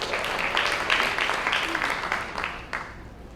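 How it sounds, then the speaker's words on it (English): Audience at a seniors' talent show in Chattanooga applauds, a dense wash of clapping that swells early then gradually fades, heard from within the room. "Big round of applause for those donations"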